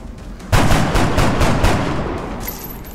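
Heavy gunfire erupts in the XCOM Long War video game, a loud, dense burst of overlapping shots starting abruptly and continuing as a rolling barrage that slowly tapers off.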